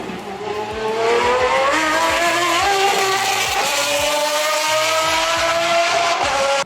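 A Pagani sports car roars past at Laguna Seca racetrack, loud and sustained, its engine note climbing through repeated gear changes with a rising, rasping whine and no voices.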